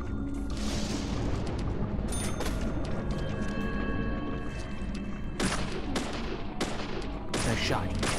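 Gunfire in the video game Deadly Premonition, a run of loud sharp shots in bursts, several close together near the end, over a dense droning game soundscape.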